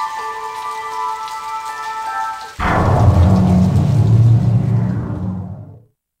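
Rain and thunder from the Sega Saturn game Koden Koureijutsu Hyaku Monogatari: a steady tone gives way to a sudden loud thunderclap with heavy pouring rain, which rumbles on and then fades out to silence.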